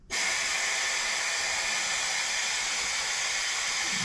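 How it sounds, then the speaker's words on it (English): A small oil vacuum draws old oil out of a tube on a John Deere 750 bulldozer left idle for over ten years, giving a steady, close, airy hiss that holds evenly from start to finish with no talk. "I'm gonna stick this little oil vacuum down in there and suck the oil out of the tube."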